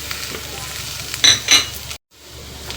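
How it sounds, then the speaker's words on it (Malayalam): Prawn masala fry with green chilies and curry leaves being stirred in a hot pan, a steady sizzle with a few louder scraping stirs before a brief cutout, then the frying hiss resumes. "ചേർത്ത് നന്നായിട്ടൊന്ന് ഇളക്കി നല്ലതുപോലെ ഒന്ന് ഇളക്കി"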